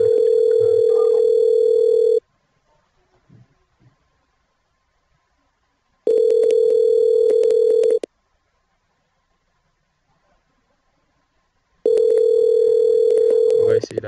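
Outgoing call on an Android phone ringing back: three long steady ringback tones, each about two seconds, separated by roughly four seconds of near silence, clear and close.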